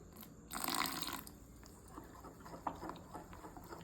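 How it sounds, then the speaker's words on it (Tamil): Water splashes into banana fritter batter in a bowl in a burst of about three-quarters of a second, followed by soft stirring and mixing sounds with a few small clicks. "இன்னும் கொஞ்சம் தண்ணி விட்டுக்கலாம்,"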